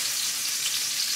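Onions fry in a pan for a Salisbury steak dinner, giving a brief, even hiss of sizzling oil close by with no voices.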